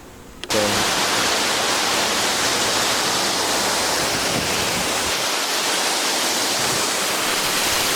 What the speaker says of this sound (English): And this was just a waterfall that was there as well.